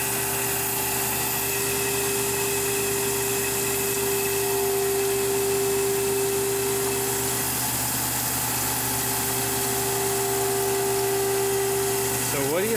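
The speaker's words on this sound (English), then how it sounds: "I actually have a Scotch-Brite disc in there. Scotch-Briting every handle via CNC." A CNC machine sands knife handles with a Scotch-Brite disc, giving a steady mechanical hum with a sustained whining tone that shifts near the end. Faint talk is possible underneath.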